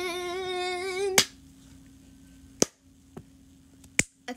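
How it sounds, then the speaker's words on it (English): Sharp hand claps ring out alone: one after a sung note fades, then three or four more scattered irregularly, each crisp and close in a quiet room. "Okay, maybe I should stop the clapping."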